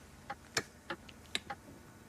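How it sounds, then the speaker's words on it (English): Ticking noise: a handful of light, irregular ticks and clicks over about two seconds against a soft background. "Sort out ticking."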